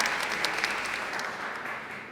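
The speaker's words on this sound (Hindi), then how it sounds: "तालियां डीनो की" Studio audience applauding on a talk show set, a short burst of dense clapping that fades slightly over two seconds.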